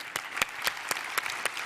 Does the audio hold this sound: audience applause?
yes